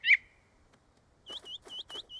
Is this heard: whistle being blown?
yes